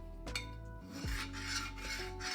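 A fingerboard grinding along a Unique-brand fingerboard ramp obstacle, producing close, quiet scraping rasps with a couple of sharper contacts, no voices.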